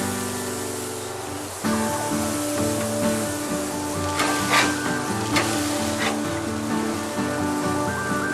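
Lamb burgers sizzle loudly on a grill, a dense continuous hiss with crackling pops rising partway through, close and steady, no one speaking.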